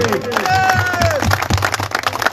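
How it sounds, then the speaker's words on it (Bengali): Audience applause at a crowded public event in Kanaighat, with clapping over a steady background as a voice speaks on top. "ওয়ালটনের জন্য আমরা সবাই একটু করতালি দেই।"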